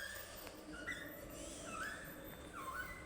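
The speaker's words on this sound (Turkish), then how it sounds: "şu merdiven köpek sesi gibi ses çıkarıyor" An escalator squeaks with high, whiny sounds repeating every second or so over a steady mechanical hum, sounding like a small dog whimpering.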